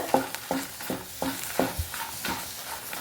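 Chillies and curry leaves fry in a pan while a spoon stirs them in quick, evenly spaced scrapes over a light, crackling sizzle, close and moderately loud.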